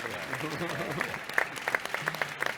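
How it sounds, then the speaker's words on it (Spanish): Applause from a round-table audience for five European defence company representatives, scattered sharp claps over a murmur of voices, fairly quiet and brief. "Yo solo pido un aplauso para estos 5 magníficos representantes de 5 grandes empresas europeas."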